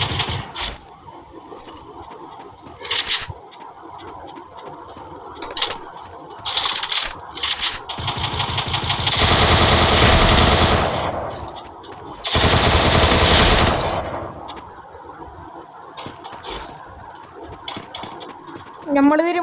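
Rapid bursts of automatic gunfire from the mobile battle game Free Fire, loud dense volleys around the middle with scattered shots before and after, while a player talks over the action.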